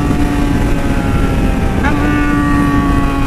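Yamaha XJ motorcycle with a straight-pipe exhaust, a loud steady engine drone with a tonal whine that shifts pitch midway, recorded on the move with heavy wind noise throughout.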